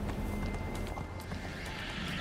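A summoned horse in the video game Neverwinter neighs and whinnies loudly, mixed with clip-clop hoofbeats and dense game background noise throughout.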